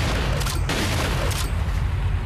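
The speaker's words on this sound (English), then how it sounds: "Oh, we have a new shotgun. Enables faster firing than the standard shotgun, so it's like pretty much automatic." Rapid, nearly automatic shotgun blasts from a Resident Evil 4 playthrough, loud and dense, stacking into a steady roar of overlapping shots with no clear gaps.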